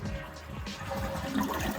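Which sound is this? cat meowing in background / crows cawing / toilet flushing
toilet flushing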